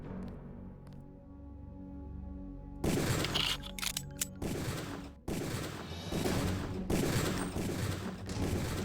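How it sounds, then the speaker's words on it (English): Gunfire in the video game Deus Ex: after a quiet stretch, loud bursts of rapid shots and single cracks erupt, sometimes overlapping, ending in a sustained fusillade with no talk. "Nice shooting, Tex."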